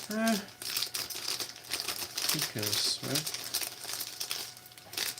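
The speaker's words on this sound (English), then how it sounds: "we are going to dispose of these plastic bags" Plastic bags from an Entry Grade RX-78-2 1/144 model kit crinkle and rustle in bursts as they are handled close by, while someone talks briefly over them.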